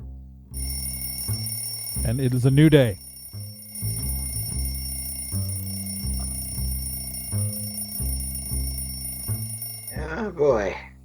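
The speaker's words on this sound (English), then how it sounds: "the alarm clocks go off" Several alarm clocks ring in bursts, with electronic beeping tones and two rising bell-like trills, while a person speaks briefly amid the ringing.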